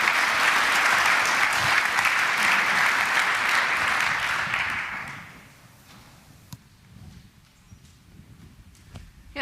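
Conference audience applauding speakers at a security talk, a loud dense burst of clapping that fades out after about five seconds, leaving quiet room noise with a few scattered thumps.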